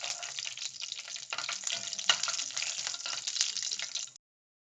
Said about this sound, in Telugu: మనం ముందుగా కట్ చేసి పెట్టుకున్న ఆనియన్స్ని వేసి ఆనియన్స్ని బాగా ఫ్రై చేసుకుందామండి